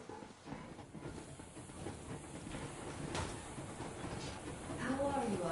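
A steam locomotive sets off in the video game Metro Exodus: a soft, continuous hiss of steam over a low rumble that slowly builds, quiet and fairly distant.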